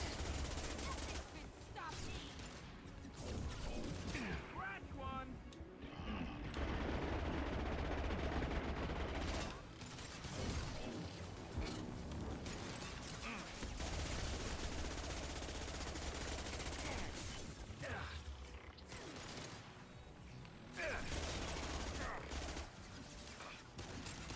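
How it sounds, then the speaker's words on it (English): Submachine gun fire loaded with Inferno incendiary ammo in the sci-fi shooter Mass Effect 2, dense sustained bursts with a steady roar of combat beneath and occasional voice chatter mixed in. "Oh, this SMG just fucking rips. And yes, the Inferno ammo definitely helps."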